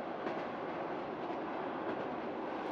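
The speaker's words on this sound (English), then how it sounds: "After 6 hours on the train, Martin wakes up with a start" Passenger train running on rails in Romania, a steady dense rumble and rattle heard from inside the carriage, constant and even for the whole stretch with faint rhythmic clatter and no talk.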